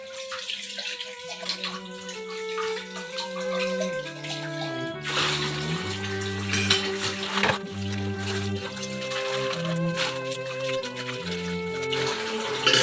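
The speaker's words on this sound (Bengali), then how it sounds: "কয়েকটা বাসন ছিল সেগুলোও মেজে ফেলতে হবে এখন" Dishes are washed under running water, with the tap flowing steadily and plates and utensils clattering close by, as soft music plays in the background.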